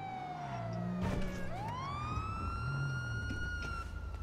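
A police car siren in GTA V wails and shifts pitch, sweeping down then rising into a steady tone over a low traffic rumble, fairly quiet.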